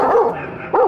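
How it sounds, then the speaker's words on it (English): Dogs barking in two close, loud bursts with a quieter whine-like tail between them, no talk. "Everywhere dogs barking. So many dogs."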